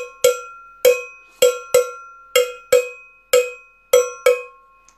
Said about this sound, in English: the noisiest instrument of the whole lot, a cowbell.